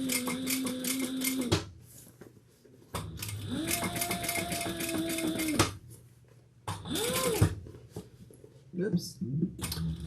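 A sewing machine stitches a sling pack in bursts, several runs of rapid whirring needle strokes separated by pauses, close and fairly loud, with brief speech between the runs.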